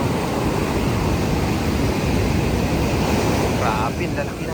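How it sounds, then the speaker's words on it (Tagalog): Large, rough ocean waves in stormy weather crash and roar continuously, mixed with heavy wind buffeting the microphone. "Grabe, lalaki ng alon dito."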